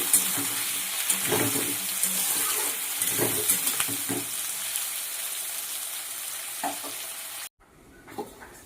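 Potatoes dropped into a pan with frying onions for a soybean curry, a continuous hissing sizzle with spoon scrapes and stirring, near and fairly loud, cutting off abruptly near the end.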